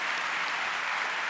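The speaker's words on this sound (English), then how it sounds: "that deserves a round of applause." Steady wash of applause from an audience at a student scholarship awards ceremony, continuous and even with no individual claps standing out.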